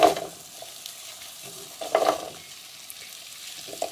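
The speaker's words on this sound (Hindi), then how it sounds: "अब हम इसमें भिंडी डाल देते हैं।" Okra frying in moderately hot oil while being stirred, soft sizzling under a few scraping stirs of the spoon, quiet and close.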